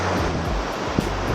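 Ocean surf washes onto the shore close by, a loud, steady roar of breaking waves mixed with gusting wind buffeting the microphone.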